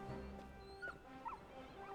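Torgal the dog whimpering in Final Fantasy XVI, a few faint, short whines and yips heard alone and quietly.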